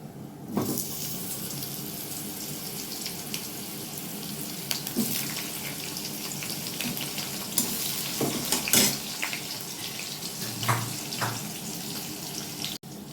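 Potatoes fry in hot oil seasoned with black cumin seeds, giving a steady hissing sizzle at moderate level, broken by scattered clicks and brief scrapes from the pan, with no talking.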